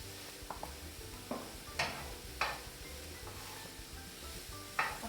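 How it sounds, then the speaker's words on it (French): Onions fry quietly in a pan for Cantonese rice with a faint steady sizzle, broken by a few sharp utensil clicks and scrapes against the pan. "et maintenant on fait revenir les oignons."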